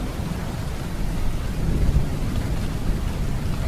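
Heavy monsoon rain pours steadily during severe flooding, a dense continuous roar with low rumbling and no breaks.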